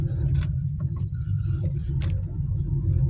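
Road traffic is stalled in a jam after an accident involving a stopped tempo and car, with a steady low rumble of idling engines and a few faint, brief higher sounds above it.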